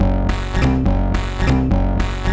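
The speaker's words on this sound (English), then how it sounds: "It's got a reverb on it." A techno synth riff with reverb loops in a repeating pattern, bright buzzy chords stabbing over a thick low bass, loud and spacious with a lingering wash after each hit.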